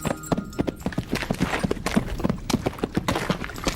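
Horse hooves clip-clop at an even walking pace, crisp repeated strikes close by with a faint ambient background.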